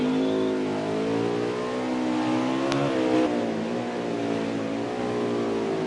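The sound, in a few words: race car shifting gears at Sonoma in a racing video game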